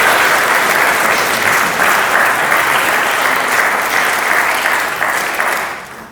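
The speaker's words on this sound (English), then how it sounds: "Can we have another round of applause before we finish for the lovely music as well from the back from David?" Wedding guests applaud the live music at a ceremony, a steady, dense round of clapping that fills the whole stretch and fades slightly at the very end.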